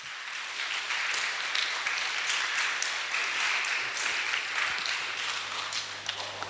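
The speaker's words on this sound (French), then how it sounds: "On acclame le Seigneur Jésus." A church congregation breaks into sustained applause, a dense wash of many hands clapping together that holds steady throughout at a fairly loud level, with no speech over it.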